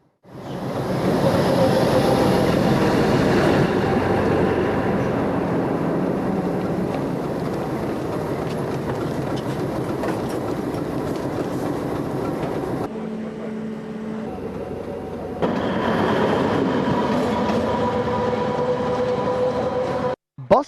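A train rumbles and clatters steadily through a railway station, a loud continuous roar that shifts in tone partway through, with no clear voices on top.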